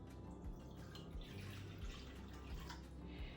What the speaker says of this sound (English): and we're adding 2 cups of water